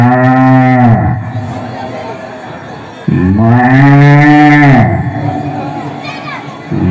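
A mimicry artist imitates a cow in the style of actor Janagaraj, giving two long, loud, drawn-out moos separated by a brief pause, with a short vocal sound at the end.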